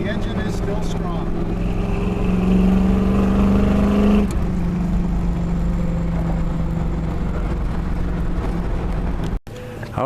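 A 1976 Chevrolet K10 truck engine runs close and loud in a steady rumbling drone, its pitch lifting briefly midway before settling back to an even idle.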